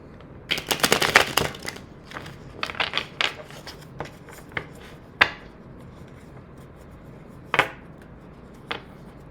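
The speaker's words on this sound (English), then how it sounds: "So I'm going to shuffle those cards back in" Tarot cards being shuffled in quick riffling bursts, first a dense flurry, then scattered single flicks and taps with quiet gaps between.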